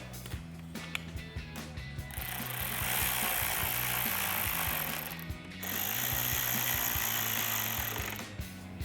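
A 5.5mm socket tightens bolts on Mustang LED projector headlights, giving two sustained buzzing tool runs of a few seconds each, preceded by light mechanical clicks and handling noises nearby.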